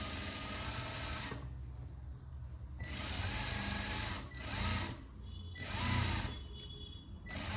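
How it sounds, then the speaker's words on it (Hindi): A sewing machine stitches a blouse seam in bursts, its rapid mechanical whirring running for a few seconds, pausing briefly, then resuming in shorter runs, close and steady. "सिलाई लगाएंगे इस तरह से।"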